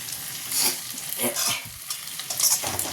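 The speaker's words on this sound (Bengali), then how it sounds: "কাঁচা টমেটো দিয়ে পেঁয়াজ কলি দিয়ে চুনো মাছের তরকারিটা বসিয়েছি" Small fish curry with green tomato and onion stalks sizzling and bubbling in a pan, with a few soft stirring scrapes over a steady close frying hiss.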